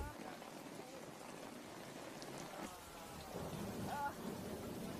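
Heavy rain pours steadily in a dense, hissing wash, with a faint rumble underneath and no voices.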